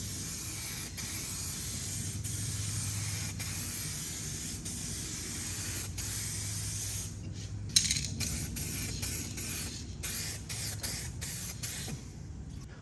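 Base coat automotive paint is sprayed from a spray bottle onto a car panel from a few inches away in light coats, heard as a series of close, sharp hissing bursts with short pauses between them.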